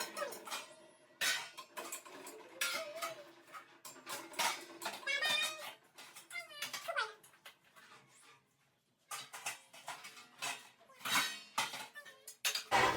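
Four steel thali plates are set down one after another in a home kitchen, giving repeated bright metallic clanks and rattles with short pauses between bursts.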